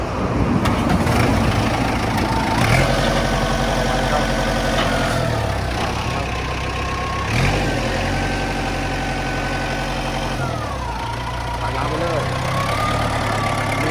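Kubota M7040 tractor diesel engine running at a steady, loud idle with a low rumble, a few revving surges and clunks, and someone talking over it.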